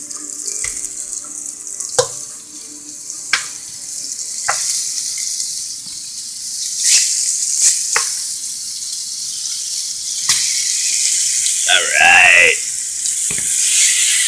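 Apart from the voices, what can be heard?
lamb added to a hot pan with browning garlic, sizzling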